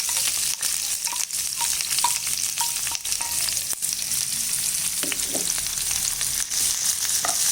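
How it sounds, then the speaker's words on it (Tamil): Onions, curry leaves and cloves frying in hot oil in a pan for prawn thokku, a dense continuous sizzle with occasional stirring scrapes, close and loud without any talking. "இப்போ நல்லா ஃப்ரை பண்ணிக்கணுங்க."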